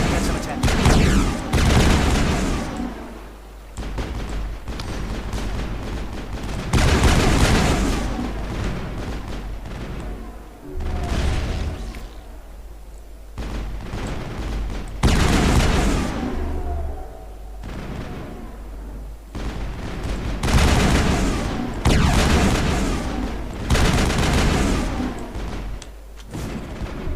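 Sustained bursts of gunfire and booming artillery in a Mass Effect battle against Geth turrets, loud repeated volleys swelling and fading across the whole stretch with brief lulls, dense and close.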